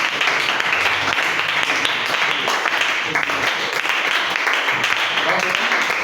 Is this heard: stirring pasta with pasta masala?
no